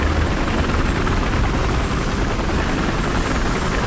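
A loud, continuous helicopter roar in the video game Battlefield Hardline, with a dense rotor chop holding steady throughout, no voices over it.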